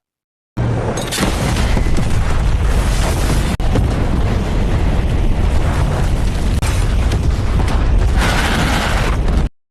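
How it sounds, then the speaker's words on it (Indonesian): A loud, sustained landmine explosion roars for several seconds, a dense rumbling boom with crackling debris and a few sharper bursts within it. "Setiba di kediaman Rambo, tanpa disadari, ledakan ranjau mereka terima."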